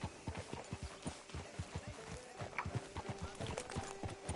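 Hooves of a horse in Red Dead Redemption 2 clip-clop at a steady walking rhythm, fairly quiet and close, with faint background ambience.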